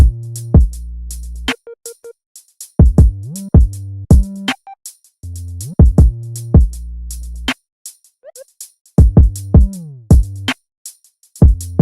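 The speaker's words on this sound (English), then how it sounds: "So the whole 808 sounds like this." A sparse electronic beat made in FL Studio plays with deep booming 808 bass notes that jump between high and low pitches, sliding at times, alongside crisp hi-hat ticks.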